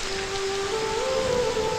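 Steady rain falls, a dense continuous hiss with a faint tonal hum running through it, heard alone with no talk.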